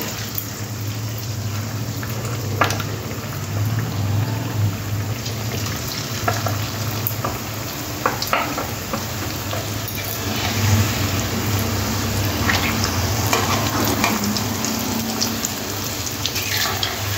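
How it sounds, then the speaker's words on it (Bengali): Potato strips for homemade crispy french fries deep-frying in very hot oil, a steady dense bubbling sizzle running throughout at even loudness with occasional louder pops and crackles. "আলুগুলো তেলের মধ্যে দিয়ে লাল লাল করে ভেজে নেব"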